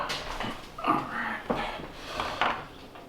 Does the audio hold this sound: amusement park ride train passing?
no